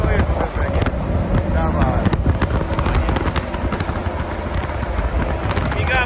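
A loud, heavy American semi-truck diesel engine roars continuously nearby, with a deep rumbling drone and rattling texture, partly buffeted by wind.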